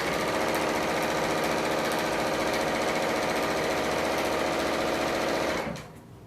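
Bernina L890 serger running steadily at speed, stitching and trimming fabric with a continuous loud whirring chatter that stops abruptly near the end.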